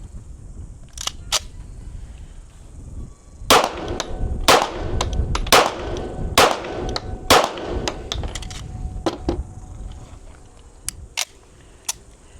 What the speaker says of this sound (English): Let me fire 5 rounds first